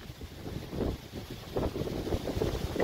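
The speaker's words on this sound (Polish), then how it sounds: "Mocno wieje, ciężko się pływa dzisiaj." Strong wind buffets the microphone while stand-up paddleboarding on open water, a steady low rumble with gusty surges and faint water sloshing, alone without talk.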